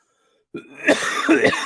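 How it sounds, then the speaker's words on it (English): After a brief silence, a person coughs several times in quick, rough bursts, close and fairly loud. "Sorry, guys, about my coughing."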